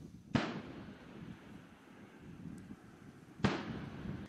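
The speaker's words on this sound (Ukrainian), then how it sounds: "Із гармат гатять по ворожих танках і гелікоптерах." Tank cannons fire live rounds on the Rivne military training range during a tank platoon competition. Two sharp, heavy booms land about three seconds apart, each trailing off into a rumbling echo.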